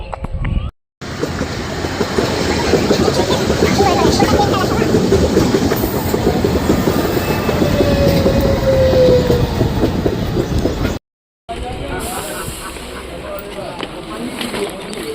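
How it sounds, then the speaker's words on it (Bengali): Passenger train rolling into a railway station near Lalgola, a loud, close rumble with rhythmic clickety-clack of wheels and a faint brake squeal, briefly cut off twice. "এক্ষণে ট্রেন ঢুকবে দৌড়ে এলাম স্টেশনে"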